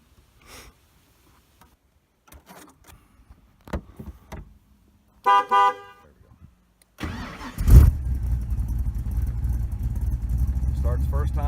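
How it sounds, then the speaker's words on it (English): A Ford Racing 351 Cobra V8 engine cranks and catches with a sharp burst, then settles into a loud, steady, deep rumble, after a few quiet clicks and shuffles. "fire it up and hear the rumble"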